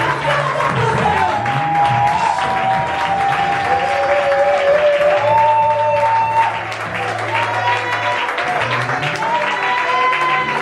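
A church congregation applauds and acclaims in worship, sustained loud clapping and crowd noise under sung or chanted voices with held tones, close and continuous.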